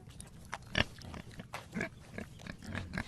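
A domestic pig grunts and snuffles in close, irregular bursts, some short and rough, others breathier, with no voices over it.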